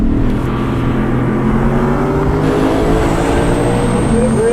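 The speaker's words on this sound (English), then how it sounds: "No turbos, just a big naturally aspirated V8 engine and a bunch of power." A 2020 Lexus GS F's naturally aspirated V8 revs hard and loud, a dense, climbing engine roar with rising harmonic sweeps, heard from close by and continuous throughout, with a voice faintly audible underneath.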